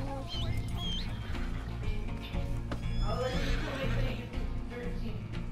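A horse whinnies a few times, high and shrill, over a busy Red Dead Redemption 2 game soundscape with steady background music and clatter.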